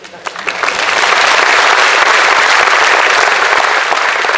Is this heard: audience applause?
yes